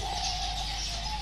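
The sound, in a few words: pigeons calling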